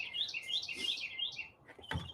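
Bright, repeated bird chirps and tweets come in quick bursts close by, followed by a brief low thump near the end.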